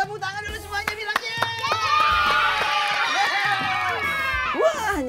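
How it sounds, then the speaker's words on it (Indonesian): Children at an Indonesian storytelling event break into applause, scattered claps building into dense, sustained clapping from a small crowd with excited voices and cheers mixed in. "tepuk tangan dulu semuanya"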